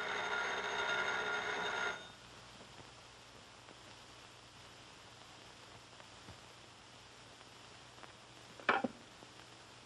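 An old-fashioned telephone bell rings loudly and continuously for about two seconds, a long-distance call in a 1930s setting, then cuts off into quiet room tone with a faint clunk near the end.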